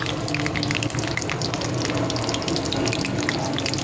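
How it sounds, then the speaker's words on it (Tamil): Mustard seeds crackle and splutter steadily in hot oil, a dense continuous sizzle with fine popping throughout, close and fairly quiet with no talk. "கடுகு வந்து பொரிச்சு வரும்"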